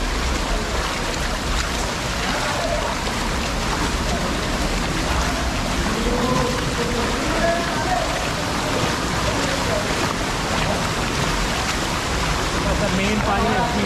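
Water gushes steadily out of a hillside near Wangu Hill, a broad, continuous rushing wash that fills the whole clip at close range, with a faint voice murmuring underneath.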